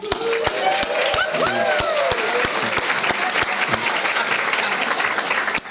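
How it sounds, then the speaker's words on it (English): Crowd applause at an evening leadership launch party, with sharp, distinct claps ringing out over a wash of lively chatter and a few raised voices; the clapping holds steady and fairly close throughout. "so everybody here can give you a round of applause"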